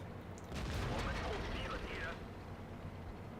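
A heavy tank cannon shot fires in a tank video game, a loud broadband boom around the half-second mark that tails off into rumbling engine noise while someone talks over it.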